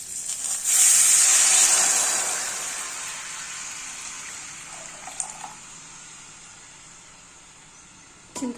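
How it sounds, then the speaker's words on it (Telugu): Tamarind juice is poured into a hot tempering for pepper rasam, giving a loud splashing sizzle at first that fades into a long, softer hiss and bubbling, ending with a small clink. "తాలింపు బాగా ఫ్రై అయ్యాక ఇప్పుడు చింతపండు రసం వేసుకోవాలి"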